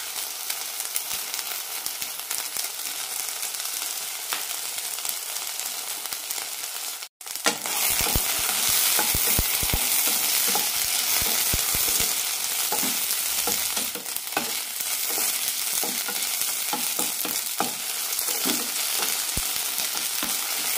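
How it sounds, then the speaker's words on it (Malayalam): Pieces of ivy gourd sauté in a hot pan: a steady, close sizzle that runs throughout, briefly cut off early on, with scattered scraping and stirring clicks over the constant frying hiss and no talking. "നാലഞ്ച് മിനിറ്റ് നന്നായി വഴറ്റിയെടുക്കാം"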